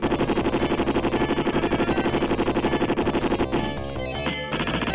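Rapid, steady automatic gunfire in a retro side-scrolling shooting action game, a loud continuous rattle of evenly spaced shots that gives way to other game effects near the end.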